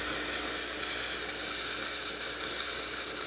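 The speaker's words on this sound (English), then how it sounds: "As you can see, lots of steam coming out through that one." Steady, loud hiss of steam jetting continuously from a Gaggia espresso machine steam wand, with no pauses or voices.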